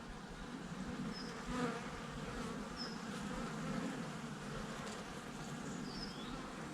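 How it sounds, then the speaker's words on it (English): Bees buzz continuously outdoors, a soft droning hum with individual insects flitting past, faint and steady with occasional birdsong. "Not sure if you can hear that buzzing or not."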